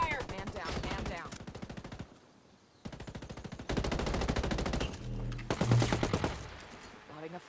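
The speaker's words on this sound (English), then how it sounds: "Taking heavy fire!" Heavy gunfire in a video game firefight: rapid automatic bursts rattle loud and close, pause briefly, then resume. Shots and explosions overlap in a dense, chaotic stretch.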